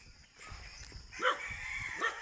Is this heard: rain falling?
no